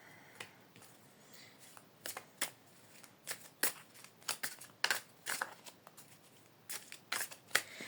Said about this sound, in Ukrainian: Карти дуже приємно тасуються в руках.